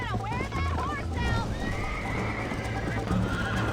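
A horse in the video game Red Dead Redemption whinnies loudly with a wavering, rising and falling call, over busy crowd noise and a steady background hum.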